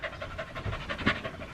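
Dogs pant indoors at home with quick, rhythmic, soft breaths that stay steady and close, with no talking.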